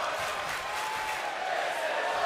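A wrestling arena crowd in the WWE 2K24 video game roars and cheers in a steady, dense wash of noise under faint commentary.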